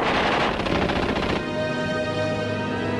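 Machine gun fire from Belgian fort positions at Fort Eben Emael in World War II, a loud rapid burst of rattling shots for over a second, then fading into a lower sustained drone.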